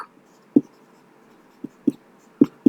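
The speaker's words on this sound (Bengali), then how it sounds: "একটু মুছে দিয়ে ভালো করে লিখি এটা" Chalk or marker writing on a board during a high-school math lesson: a few short, sharp tapping strokes spaced irregularly, close by and otherwise quiet.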